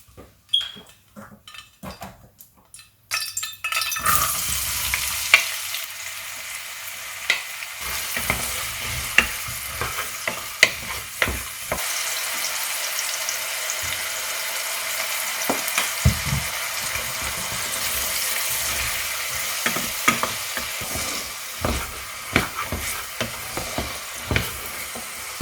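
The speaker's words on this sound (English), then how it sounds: "now I'm putting it to the side so it can start to cook and boil" Yellow split lentils cook in a pot for an Ethiopian vegan dish. After a few quiet seconds with light clatter, a steady hiss of bubbling and sizzling sets in, dotted with sharp pops and occasional utensil clinks.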